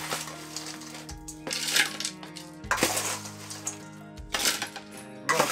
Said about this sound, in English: Now we need some crushed ice.